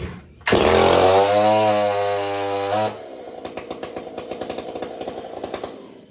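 A Stihl chainsaw with an upgraded clutch revs hard and loud for a couple of seconds, pulling the chain through the engaged chain brake, then drops to a lower, rapidly pulsing idle close by.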